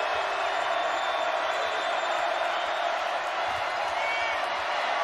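A basketball arena crowd at a Kansas Jayhawks game against West Virginia roars steadily in a dense, continuous wash of cheering that fills the space, with an announcer's voice talking over it.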